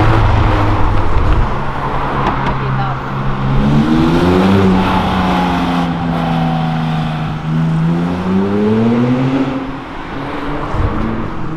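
A Nissan GT-R accelerates hard along an avenue, its engine note climbing and falling through repeated loud revving sweeps, close by with a steady roar of traffic behind it.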